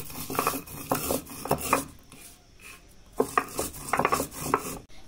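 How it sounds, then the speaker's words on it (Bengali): Roasted coriander seeds, cumin and dried red chilies being pounded or ground by hand, giving repeated bursts of scraping and knocking in two clusters with a quiet pause between, close and without talk. "এই তিনটে বেটে নিচ্ছি।"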